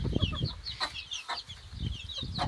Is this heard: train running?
no